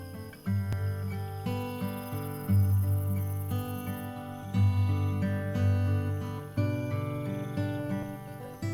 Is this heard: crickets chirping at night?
yes